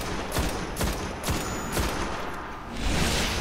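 Gunfire from a single-shot rifle in the video game Destiny: several sharp, evenly spaced shots ring out close and loud over a dense, noisy game background.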